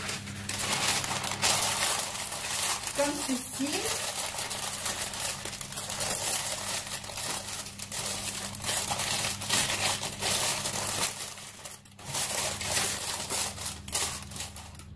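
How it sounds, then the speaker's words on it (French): Continuous close crinkling and rustling of parchment paper being pressed and folded into a loaf cake tin, with a brief spoken phrase partway through. "Donc je vais garnir mon moule à cake d'un papier sulfurisé."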